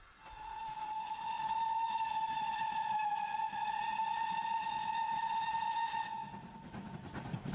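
A preserved steam locomotive sounds a long, loud, sustained whistle that holds steady for about six seconds before cutting off, with rumbling train noise underneath.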